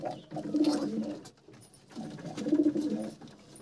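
Ablook pigeons coo in a loft, two deep, rolling coos close by, each lasting about a second, separated by a short pause.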